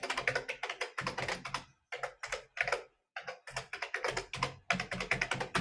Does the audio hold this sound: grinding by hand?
no